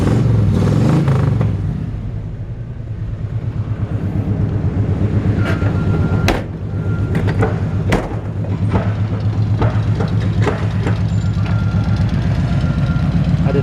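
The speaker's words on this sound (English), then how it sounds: "Nice sounding exhaust." A 1960 Chevrolet C-10 pickup with a V8 and automatic transmission idles with a steady, deep exhaust rumble for over ten seconds. Scattered thumps and clicks break through, and no one speaks.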